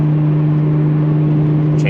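A Nissan GT-R engine and exhaust idle close by, a steady, even, fairly high-pitched drone with a somewhat restricted exhaust note that holds unchanged throughout.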